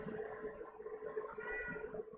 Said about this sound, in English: If you hear a kitty meowing